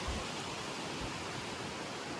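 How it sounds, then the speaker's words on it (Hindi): Strong wind roars across the hills of Himachal, a dense, loud, unbroken whoosh with gusty buffeting at the start. "अरे बहुत तेज़ हवा आ रही है।"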